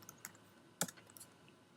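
Computer keyboard keys clicking as Jmol commands are typed: a few sparse, light taps near the start, then a sharp, louder cluster of keystrokes in the middle and a couple of softer clicks after, all close and without talk.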